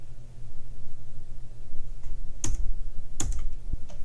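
Typing code on a computer keyboard, a few quiet key taps followed by two sharper, louder clacks close to the microphone over a low room hum.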